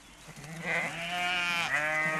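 Sheep in a European pasture flock give a single drawn-out, wavering bleat, close and clear against faint background noise, with no talk.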